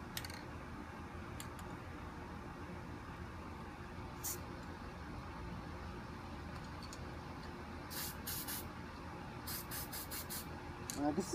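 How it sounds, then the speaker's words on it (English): Short hissing bursts of aerosol spray paint as a tint color is sprayed over spray paint art, several quick puffs clustered near the end, over a steady low background rumble. "I'm just gonna gently spray it on the top."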